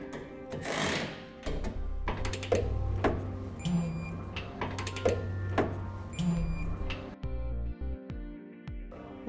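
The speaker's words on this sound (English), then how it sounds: "Now we'll go ahead and tighten these down and torque them to manufacturer specifications." Flange nuts being tightened onto bolts while a Curt trailer hitch receiver is installed, a close, loud power tool whirring steadily with rhythmic mechanical pulses before it cuts off near the end.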